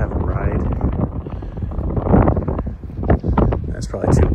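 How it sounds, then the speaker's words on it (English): Wind buffets the microphone on a Pacific Crest Trail stretch in the Sierras, a continuous loud low rumble with gusts swelling and easing throughout. "That's probably too windy to talk anyway."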